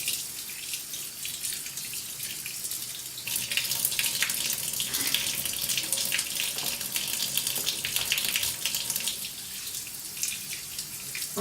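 Cold tap water runs steadily into a sink while skinless chicken breasts are rinsed, a continuous close hiss with faint splashing that strengthens midway and eases toward the end.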